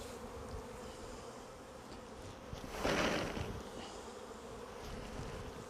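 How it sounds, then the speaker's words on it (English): Honey bees shaken from a frame into a hive while two colonies are merged, a dense close buzzing that swells sharply for a moment as they drop in, then settles to a steady hum. "Shaking bees in."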